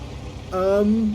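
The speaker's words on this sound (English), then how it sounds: "it's got a nice engine noise, which I suppose you would expect from an Italian tank." An Italian P.43 bis tank engine in a war video game starts a tonal, droning note that rises in pitch for about half a second, steady and fairly loud over low background rumble.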